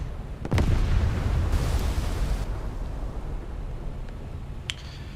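A warship detonating in a naval combat video game, a sharp close blast followed by a long low rumbling roar that slowly fades, with a small pop near the end.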